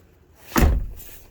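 A Mercedes-Benz Vito van door closing onto its door holder catch, a single soft thud with a short click, heard alone at close range.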